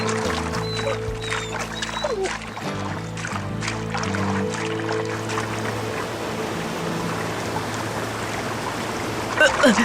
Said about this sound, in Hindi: बहाव बहुत ज्यादा है, हम रुक नहीं पाएंगे जोई।